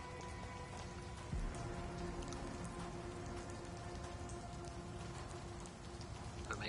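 Steady rain patters and hisses across a street in Vampyr, a dense, even wash with a faint clopping horse mixed in and one sharper knock early on.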